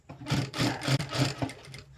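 A sewing machine runs top stitching along a blouse neckline with long stitch length, a close, steady whirring burst of about two seconds with no talk over it.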